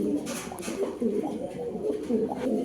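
A Jacobin pigeon coos in low, throaty, repeated phrases close by, with a slight rolling rhythm and no talking.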